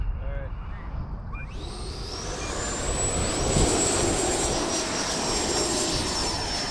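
Freewing Avanti and Viper RC jets flying over a runway, a steady rushing turbine whine rising in pitch and growing louder as they climb straight up, filling the clip at fairly close range.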